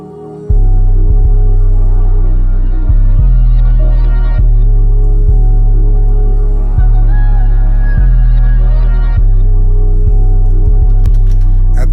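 A loud, booming low-end beat in E flat minor pulses steadily under a faint, airy vocal sample with a Doppler effect that sweeps and bends in pitch, with no talking.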